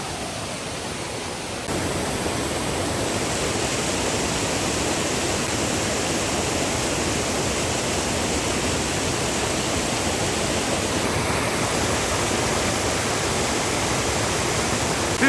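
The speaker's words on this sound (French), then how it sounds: "Fin de la cascade." A huge waterfall roars loud and steady as one unbroken broadband wash of falling water, getting fuller after the first couple of seconds and staying constant to the end, with no voices.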